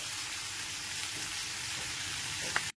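Spring onions mixed with potato and cauliflower fry over a medium gas flame, giving a steady, close sizzle that runs unbroken throughout, with a faint stir near the end.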